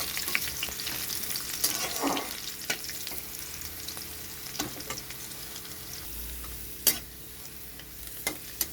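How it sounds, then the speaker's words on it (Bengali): Onion frying in hot oil with panch phoron and chili for an eggplant-potato chorchori. A steady close sizzle runs throughout, with scattered stirring clicks and scrapes and no talking. "এখানে পেঁয়াজটা ভাজা হয়ে গেছে,"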